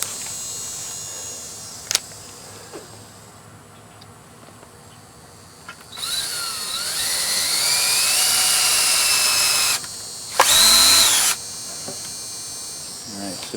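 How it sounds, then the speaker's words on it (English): Power drill driving a concrete screw through an anchor board into a wall, a high whining buzz that starts and runs steadily for several seconds, pauses, then bursts again briefly. "I'm going to start my concrete screw."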